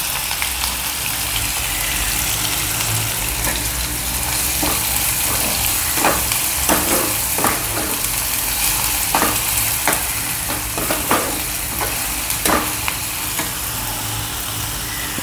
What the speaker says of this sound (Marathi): मग आलं लसूण पेस्ट, त्याचा कच्चा वास जायचवर आपण थोडंसं परतूया.